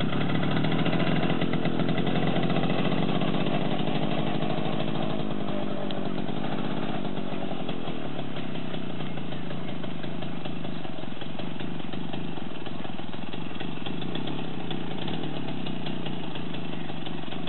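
Small Romet motorcycle engine running steadily throughout a beginner's first ride, a loud continuous buzzing drone that thins slightly partway through, with no talk over it.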